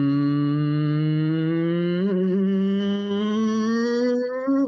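A steady hummed tone drifts slowly upward in pitch for several seconds, sustained and close, with a slight waver near the end.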